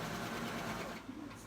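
Baby Lock serger sewing a wave stitch at a moderate pace, a fast continuous mechanical whir and rattle, close and steady, easing slightly near the end; someone speaks over it.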